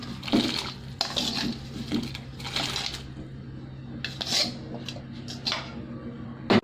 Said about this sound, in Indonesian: Airnya sudah mendidih, kita akan masukkan yang kita tumis tadi ya.